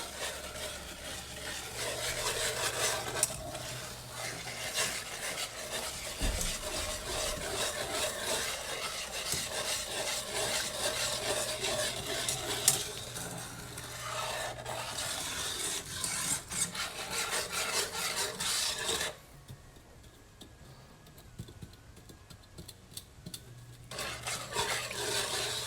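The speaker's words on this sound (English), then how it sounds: "let me give that a quick stir real quick" A spoon scrapes and rubs steadily against the bottom of a pot of melting sugar, making a continuous gritty, grainy stirring sound up close, with a short quieter pause late on and no talk.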